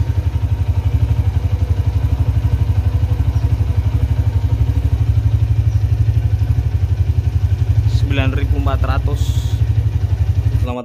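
Tiger Revo motorcycles warm up at idle nearby, a loud, continuous, evenly pulsing engine throb with faint clatter that holds steady throughout while a person briefly talks over it near the end.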